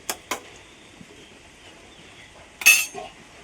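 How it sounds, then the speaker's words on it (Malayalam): A spoon clinks against a cooking pot while stirring, a few sharp metallic taps followed by a brighter scraping clatter, quiet and close with no talking. "ഇനിതേ നല്ലപോലെ ഇളക്കിയിട്ട് ഒന്നും കൂടെ വേവിക്കാം"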